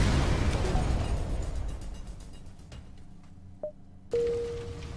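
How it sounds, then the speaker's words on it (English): Fire crackling aboard a spaceship in FTL: Faster Than Light, a dense noisy rumble with pops that gradually fades, followed by a short tone and then a sustained steady alarm-like tone near the end. "Why do I hear a fire?"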